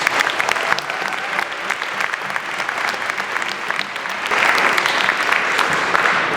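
Audience applause for festival volunteers and team at a film screening event, sustained dense clapping throughout, swelling slightly louder near the end.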